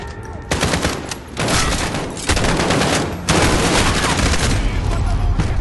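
Dense automatic gunfire in Call of Duty Modern Warfare during an indoor push through a building. Long, loud, continuous bursts come with short gaps between them and almost fill the whole stretch.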